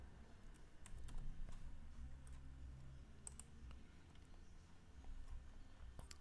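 A computer keyboard typed on while drafting a site plan, with quick, scattered close key clicks in uneven bursts over a low background hum, no voices.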